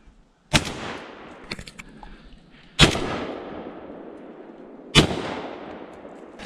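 Shotgun blasts loaded with 8 shot through a modified choke, fired at birds up in a tree: three loud, sharp outdoor reports spaced a couple of seconds apart, each trailing off in a long echo.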